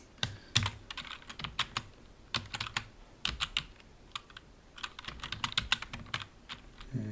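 Close, crisp keystrokes on a computer keyboard as a password is entered, arriving in quick irregular bursts separated by short pauses, with no talking.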